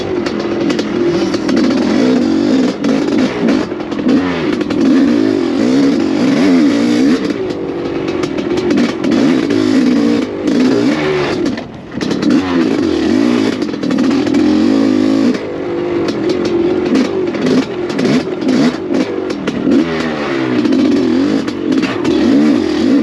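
A 1985 Honda CR500AF conversion motorcycle is ridden hard around an enduro track, its two-stroke engine loud and close throughout with constant revving, brief throttle dips and surges, and no talk.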